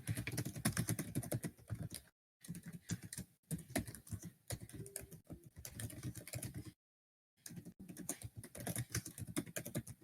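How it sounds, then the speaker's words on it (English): Fingers patter quickly on a computer keyboard during a home-brew tabletop role-playing session, steady clicking bursts broken by two short silent gaps. "Can you hear me typing?"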